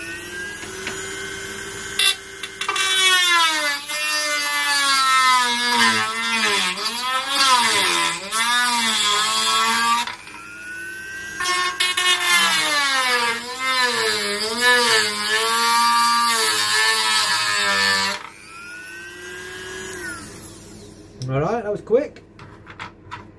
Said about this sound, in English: So I've got my little rotary tool here.